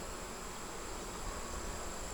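Honeybees buzz around an open hive frame full of brood, a dense, steady, quiet drone of many wings close by with no voices.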